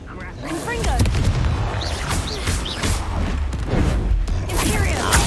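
Confringo blasting spell explosions in the video game Hogwarts Legacy, a dense run of booming, crackling bursts over a continuous loud roar of game effects, with some voice mixed in.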